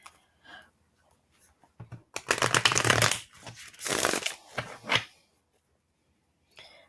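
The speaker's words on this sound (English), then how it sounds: "that was the weirdest shuffle I think I've ever done" A deck of playing cards is shuffled up close in several quick, crisp riffling bursts, with brief pauses and soft handling noises in between.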